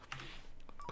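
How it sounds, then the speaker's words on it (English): Short electronic phone tones in the Car Mechanic Simulator 2015 game, a quick run of beeps and pips, faint and close, with no talking. "And the phone's ringing."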